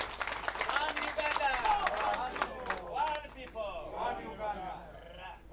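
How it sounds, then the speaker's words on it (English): Audience clapping for a presidential flag bearer, a burst of hand claps mixed with cheering voices that is strongest early, then thins into babble and chatter. "I'll request that you clap for him."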